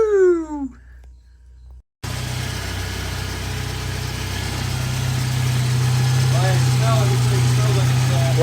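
Idling Jeep engine with a possible tick or knock, oil on the exhaust, settling into a steady low hum after a brief pause, with faint high squeaks near the end; a voice speaks briefly at the very start.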